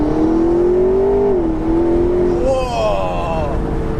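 A McLaren 650S Spider accelerates on an open road, its engine note rising steadily through a gear change and then climbing again, loud and close, as heard from inside the car.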